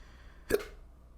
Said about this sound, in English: These fucking hiccups, bruh.